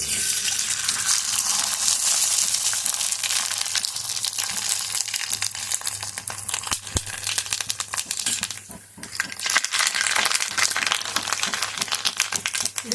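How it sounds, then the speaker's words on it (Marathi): Sabudana papad frying in hot oil, a dense close crackling sizzle that runs throughout, briefly dips, then rises again with bursts of popping. "अजून परत एक पापड तळून दाखवते"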